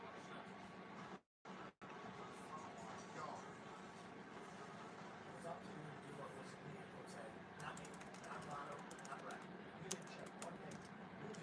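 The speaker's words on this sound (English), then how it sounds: "it's just me typing." Computer keyboard typing during a casual online hangout, a steady stream of small clicks and taps running under continuous background noise, with a brief dropout near the start and sharper keystrokes toward the end.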